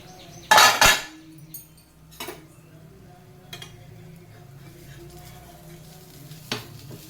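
Pesarattu sizzles quietly in a pan on an Andhra breakfast stovetop, with a sharp metallic scrape and clink of a utensil early on and a few softer knocks over the low frying hiss.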